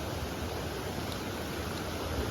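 Rainwater streams across a cement road after two days of rain, a steady, even rushing wash with no distinct splashes, moderately quiet and unbroken throughout.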